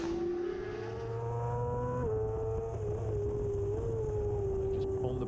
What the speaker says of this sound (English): Just on the brakes, coming into, just down a gear into Church Bends